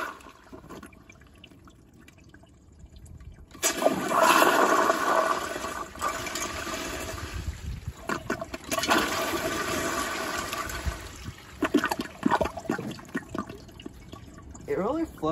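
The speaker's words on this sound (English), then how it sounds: "Flushes like a vintage toilet. The way it does, it goes up like that and then siphons." A Toto CT705 toilet flushes on a piston flushometer, starting with a sudden loud rush of water that rises and then siphons down, close and continuing for several seconds with gurgling and dripping before settling.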